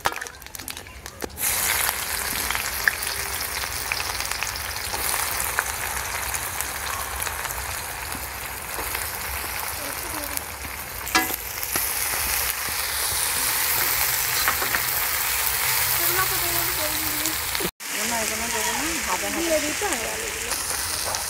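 Onion frying in oil with bay leaves and five-spice at an outdoor picnic, a steady hissing sizzle with faint chopping and background voices.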